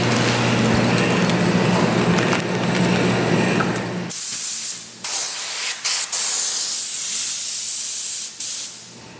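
A Werther CS-COMPACK X air compressor in a garage hums with a steady broadband hiss for several seconds, then gives way to sharp, brief bursts of spraying air that start and stop abruptly.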